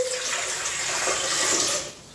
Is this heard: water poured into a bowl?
yes